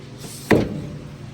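A single sharp thump of a homemade mini tractor cab door being opened or unlatched on a Kubota, with a brief rattle trailing off, no voices.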